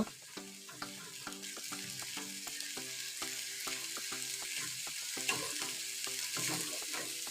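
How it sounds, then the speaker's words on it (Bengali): Spice paste of red chili powder loosened with a little water fries in a pan, a soft sizzle punctuated by regular, rhythmic taps and scrapes of a spoon stirring, close and fairly quiet. "ভালো করে মশলাটাকে একসাথে মিশিয়ে নেব আর ফ্রাই করে নেব"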